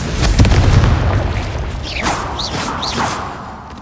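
Casting the Confringo blasting spell in Hogwarts Legacy sets off a loud, deep boom that rolls away into crackling debris, with magical whooshing chirps trailing after it.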